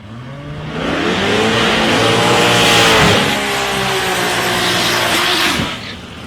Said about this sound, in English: Nice burn on both tyres there for Rob Mackay and for Bradley Hicks.